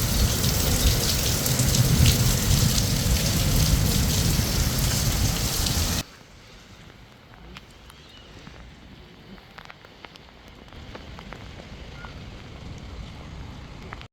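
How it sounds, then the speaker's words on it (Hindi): A stormy, torrential downpour roars loudly and densely at first, then drops abruptly to a much quieter, thinner patter of rain with scattered drips that gradually builds again toward the end. "ये देखिए इतना हसीन मंजर, ये हुई थी तूफ़ानी धुआंधार बारिश।"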